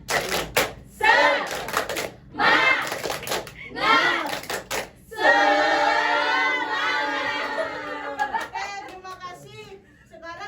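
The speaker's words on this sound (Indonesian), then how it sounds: "Kita tepuk semangat aja ya, biar kalian semangat." A class of schoolchildren claps and chants the rhythmic 'tepuk semangat' in unison, loud and crowded for several seconds after a teacher's brief spoken prompts, then trailing off into scattered voices.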